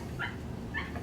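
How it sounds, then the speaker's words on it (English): A dog barks outdoors in two short, faint yips about half a second apart, set against a steady low rumble of background noise. "If you hear that barking outside"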